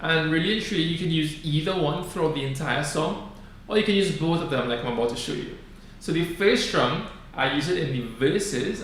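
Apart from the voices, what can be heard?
No everyday noise stands out behind the speech.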